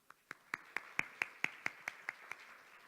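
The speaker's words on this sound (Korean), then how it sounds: "신종호 교수님 인사해 주실 때 큰 박수로 환영해 주시기 바라겠습니다." Sparse, steady clapping of roughly a dozen crisp hand claps from a small audience at an education forum, welcoming the chair of a creativity panel discussion; faint and evenly paced, with no talk over it.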